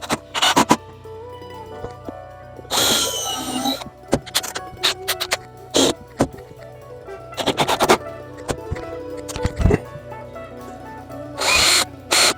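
A power drill drives screws into a wooden birdhouse in short bursts of whirring, separated by pauses filled with handling clatter and small knocks, close and fairly loud.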